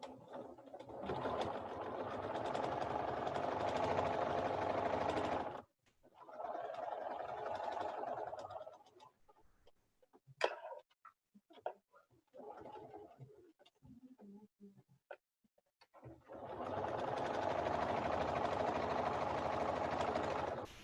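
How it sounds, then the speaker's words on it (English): A sewing machine edge stitches with an edge stitch foot at a 2.5 stitch length, running in two long steady bursts with a quiet stretch of small handling noises between them. "I'm going to just leave my edge stitch foot on and go around this twice"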